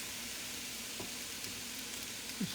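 Mushrooms are cooking down in a hot pan, giving off a soft, steady hiss of frying that stays faint and even throughout, with no voices.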